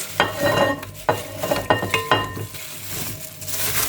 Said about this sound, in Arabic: وهنقلب بقى الخليط كله مع بعض